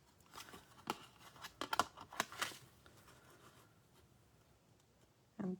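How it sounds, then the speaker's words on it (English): Scissors snip a paper card piece for a handmade arrow front card, giving a few quiet crisp cuts and rustles in a near-silent room, then a brief louder rustle at the end. "So I'm going to cut that out."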